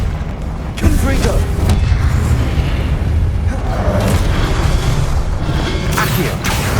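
Confringo fire spell blasts in Hogwarts Legacy, booming impacts and bursts layered over continuous game action, with a spoken incantation cast over them.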